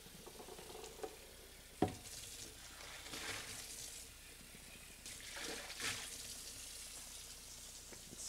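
A Vitamix blender container is rinsed out with water after cleaning, producing faint, uneven splashing and swishing with a few soft knocks, close by and without talking.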